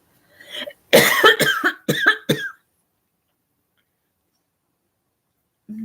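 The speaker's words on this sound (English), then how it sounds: "you're making Mommy cough" A woman coughs indoors in a quick burst of about five harsh coughs, then silence follows.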